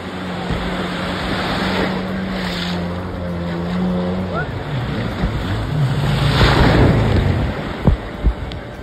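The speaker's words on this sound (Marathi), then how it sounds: "तर काय पहिली राईड आहे जेट स्कीची." A jet ski engine hums steadily off the Konkan coast over splashing sea water and wind buffeting, with its pitch shifting as it moves.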